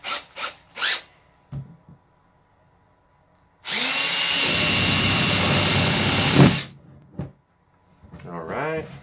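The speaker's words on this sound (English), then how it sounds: "Let's go ahead and drill this in" A power drill drives screws into a DIY worm farm, whirring steadily for about three seconds, loud and close, with brief talk and small clatters before and after.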